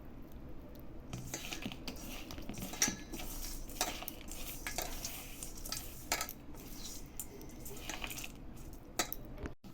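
Rice flour laddu mixture being mixed by hand or spoon in a bowl after milk is added, giving steady soft squishing and scraping with scattered light clinks against the dish, continuous for about ten seconds, no talking.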